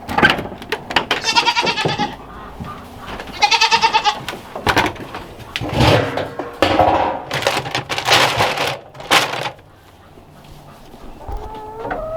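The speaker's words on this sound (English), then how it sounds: "Let's feed the goats real quick." Goats bleat repeatedly and loudly nearby at feeding time, several overlapping calls in quick succession, with some rustling and movement between them.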